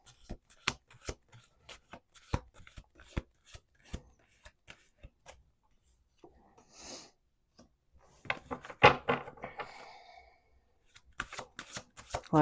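Tarot cards being shuffled in a series of crisp riffling bursts and soft slides, with brief pauses between them and a longer flurry near the end.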